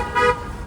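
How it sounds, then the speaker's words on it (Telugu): A car horn honks in one continuous blast lasting under a second, fairly loud and close, on a village road during a trip to a local fair, with road noise underneath. "అబ్బా ఇంతలా హార్న్ సౌండ్ విని ఎన్నాలైందో"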